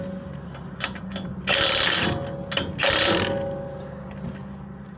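Bolts are tightened on a forklift brake assembly with a ratchet, giving close, loud clicking bursts, two long ratcheting runs and shorter clicks between them over a low mechanical hum.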